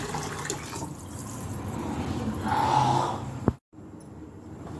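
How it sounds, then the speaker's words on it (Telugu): Water pours into a pot of rice, about six small glasses for three of rice, with a steady splashing gush that swells, ends with a sharp clunk, and is followed by a brief quiet. "ఇప్పుడు నీళ్ళు వేస్తున్నాను"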